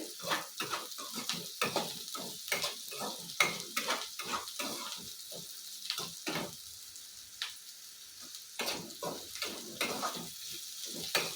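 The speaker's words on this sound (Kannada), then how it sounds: "ಈಗ ಎಣ್ಣೆ ಸ್ವಲ್ಪ ಹುರ್ಕೊಂತ ಇದ್ದೀನಿ ನಾನು" Bitter gourd pieces sizzle and fry in hot oil for bitter gourd palya, with a steady crackle broken by repeated stirring scrapes throughout, close up and with no talking.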